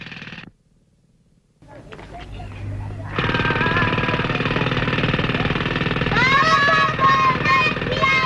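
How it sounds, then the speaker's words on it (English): Loud drilling in an Abbas Kiarostami film: after a brief silence and some faint knocks, a harsh, steady drilling roar starts and runs continuously, with voices rising over it near the end. "He switches off from the loud drilling sound"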